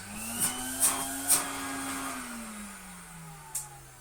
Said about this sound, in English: I've had 3-year-old vacuum cleaners that sound worse than that